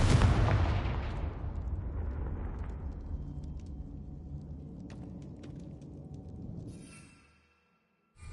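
A Confringo blasting spell in Hogwarts Legacy goes off as one loud close explosion, its rumbling tail fading slowly over several seconds, with faint debris clicks before brief silence and a new sound at the end.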